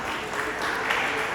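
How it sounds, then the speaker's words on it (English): Middle school students give a round of applause in a school setting, heard as a brief, even, hissing patter of many small sharp sounds close up, with no voices over it. "Let's give a round of snaps of applause"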